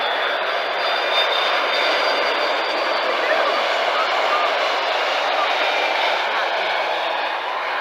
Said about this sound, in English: It is Air Europa in the new blue livery. A330